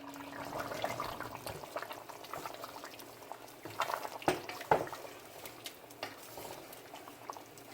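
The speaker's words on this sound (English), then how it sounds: "I pour out the water." Water from braised butter beans splashing and trickling as it is poured out, with a few sharper clinks partway through, fairly close and steady.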